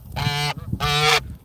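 A pet goose gives two loud, nasal honks close by, each about half a second long with a brief pause between them, clear and unaccompanied by talk.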